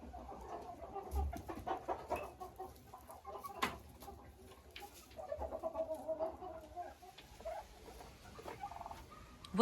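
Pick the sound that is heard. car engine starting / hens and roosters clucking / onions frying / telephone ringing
hens and roosters clucking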